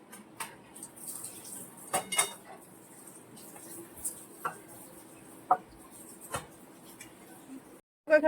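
Biryani rice flavoured with kewra water being mixed in a pot in a home kitchen, heard as intermittent metal spoon scrapes and clinks against the pot over a quiet background.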